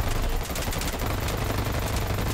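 Automated turret in the online shooter Dirty Bomb firing a continuous rapid stream of shots during a ranked match, loud and close, dense and unbroken with no pauses.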